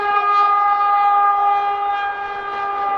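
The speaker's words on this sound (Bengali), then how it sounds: "এদিকে দেখো, ট্রেন যাচ্ছে" A Vande Bharat express train passes at Khirai, its horn a long, steady tone with layered harmonics, loud and unbroken, with no talking.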